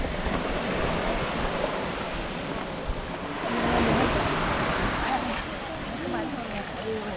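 Surf rolls in at Voltos beach in Parga, Greece, a continuous broad wash of breaking waves with some wind rumble, swelling slightly in the middle and staying fairly close.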